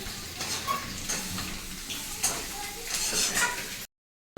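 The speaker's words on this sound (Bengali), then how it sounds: "চিকেন কষাই করছো লাল লাল করে" Chicken stir-fried in a pan until it turns red, with a steady frying sizzle and scattered scraping knocks from the stirring. A voice comes in faintly at times under the cooking noise.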